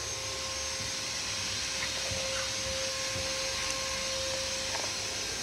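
A blower motor in a 2013-2020 Ford Escape runs steadily, giving a continuous airy whir with a faint tonal hum, moderately close and with no voices.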